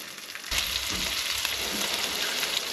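Scallops sear in a hot pan, a steady loud sizzle kicking in abruptly after a quiet half-second and holding dense and even throughout, with faint crackles.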